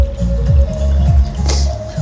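Water is poured from one glass into another, a wet, gurgling trickle with drips and splashes that runs steadily and stays close and fairly loud.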